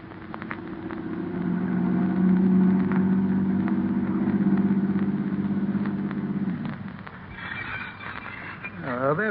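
Car pulling up in an old radio drama sound effect, a low steady engine rumble that swells and fades, followed by a faint whinny-like squeal, with a voice speaking over it near the end.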